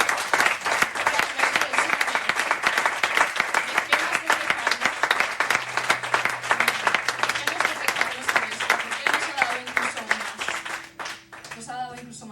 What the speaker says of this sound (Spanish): Y yo creo que solo eso se merece un aplauso realmente.